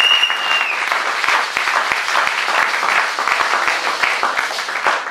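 A church congregation gives sustained, dense applause at a service, loud and near, with many overlapping hand claps blending into a continuous roar throughout.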